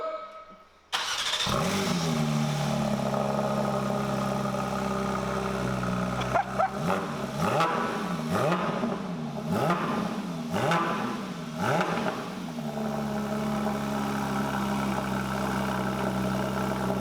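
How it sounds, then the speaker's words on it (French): A Porsche 992 GT3 fitted with a titanium exhaust cranks and fires up loudly, settles into a steady idle, then gives a series of sharp throttle blips before returning to idle, heard up close. "Je vais attendre le bruit de la GT3. L'échappement est là. On peut la démarrer."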